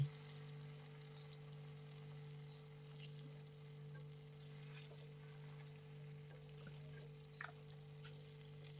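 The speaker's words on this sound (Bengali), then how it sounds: "এখন একটি কড়াই বসিয়ে তাতে তেল গরম করে এগুলোকে আমি ভেজে নিচ্ছি" Dhoka lentil cakes fry in hot oil in a wok, giving a faint, continuous low sizzle with a steady hum beneath and occasional small pops.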